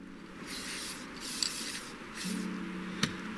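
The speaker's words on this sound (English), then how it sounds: "We are spraying the trigger assembly." Spray cleaner is applied to a gun's trigger assembly in several soft, hissing bursts over a steady low background hum. A small click sounds near the end.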